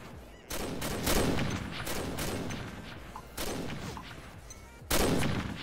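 Rapid automatic gunfire in the online shooter Combat Arms, three loud sustained bursts separated by short gaps, each with a sharp onset and crackling rattle, with no talk over them.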